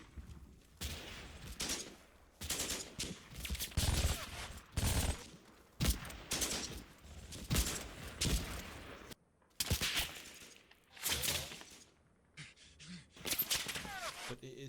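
Machine gun fire from an MG team in the Combat Mission Fortress Italy video game, repeated bursts of rattling shots separated by brief pauses, fairly loud against a quiet background.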